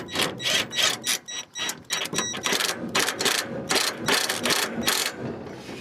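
Impact wrench hammering at the blade bolt of a Husqvarna YTH150 riding lawn mower, a loud close run of rattling bursts with brief pauses between them.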